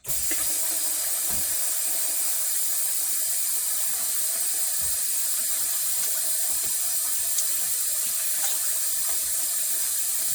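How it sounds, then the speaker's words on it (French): Lukewarm water being poured for making ablo, a steady continuous splashing stream like running tap water, fairly loud and close, with a few faint clicks and no talking. "Et je vais ajouter un peu de l'eau tiède."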